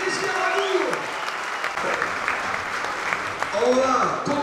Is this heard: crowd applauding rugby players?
yes